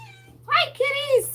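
Pet cats meowing at home as they ask for food, two drawn-out, close meows in quick succession over a low steady hum.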